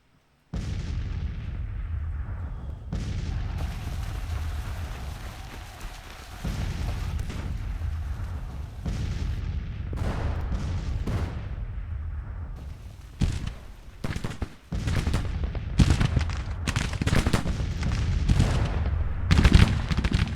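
Artillery counter-battery fire in Grand Tactician: The Civil War, heavy cannon booms and rumbling volleys rolling continuously for twenty seconds, with dense overlapping blasts growing sharper and more clustered toward the end, no talk.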